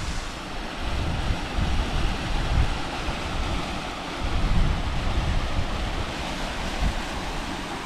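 Aber Falls, a 120 ft waterfall in Snowdonia, Wales, gives a steady broadband roar of rushing water, mixed with wind buffeting the microphone, constant and fairly loud with no voices.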